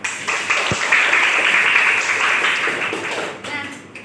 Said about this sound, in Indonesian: Aplaus untuk Weni.